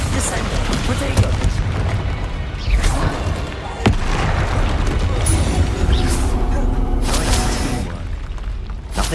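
Bombarda spell blasts in Hogwarts Legacy against an angry troll, a loud dense battle din with a sharp crack near four seconds, sustained rumbling booms and shattering bursts throughout.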